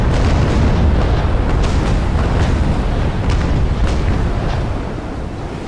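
Heavy booming ship cannon fire in the naval video game Naval Action rolls in repeated deep blasts, dense and loud, fading slightly toward the end.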